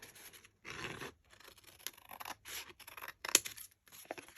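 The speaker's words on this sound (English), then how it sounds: "So I'm going to cut that open." Scissors snipping through craft material for Christmas gifts, with a few short, irregular cuts and scraping rustles separated by brief pauses, close and fairly quiet.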